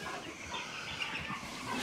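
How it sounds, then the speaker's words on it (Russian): Broiler chicks in a rearing shed peep softly, a faint, steady chatter of many small birds close by with low background hum and no talking. "Вот здесь наши цыплятки сидят."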